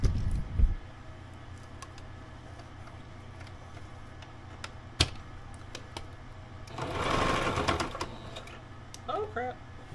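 A home sewing machine stitches French terry fabric, running over a pin partway through. Faint taps and clicks lead to a louder buzzing run of stitches near the end, with a voice briefly audible.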